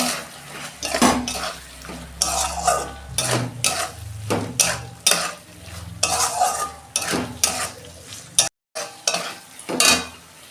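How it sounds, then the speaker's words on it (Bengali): Potatoes tipped into a pan of fried spice paste and stirred, with loud scraping and clattering of a spoon against the pan over a low sizzle, repeated strokes close up, one brief dropout near the end. "এই যে আলুটা দিয়ে দিচ্ছি"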